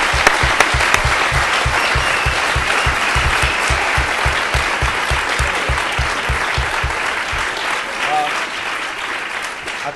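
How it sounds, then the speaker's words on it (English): An audience at a debate on naturopathic medicine claps for a question, a sustained burst of applause that keeps up strongly, then thins slightly near the end. "Please, a round of applause for the question."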